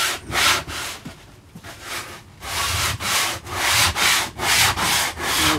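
Damp wood being sanded by hand with the wrong type of sandpaper, a rhythmic close scraping rasp in steady back-and-forth strokes, briefly pausing before resuming.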